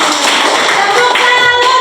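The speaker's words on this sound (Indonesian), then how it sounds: "Iya, tepuk tangan untuk kelompok." Students clap loudly for a presenting group in a classroom, a close, busy patter of hands mixed with overlapping young voices.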